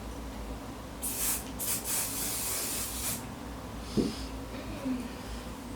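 Several short bursts of hairspray hiss close by, a few seconds of quick sprays followed by quieter rustling.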